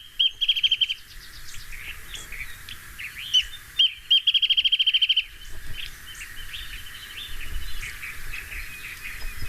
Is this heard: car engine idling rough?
no